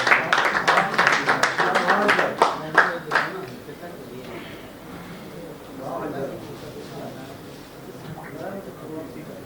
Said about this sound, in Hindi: जोरदार तालियां बजाएं आप लोग।